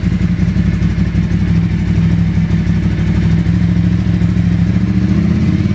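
A 1986 Ducati Passo 750 motorcycle engine idles steadily at about 1500 RPM, its loud, close, even thrum lasting the whole stretch with a light mechanical clatter and no voices.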